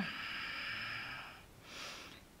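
Slow, audible breaths come during a floor yoga class in a wide-legged seated forward-bend pose: a long soft inhale, a short pause, then a breathy exhale, close and quiet.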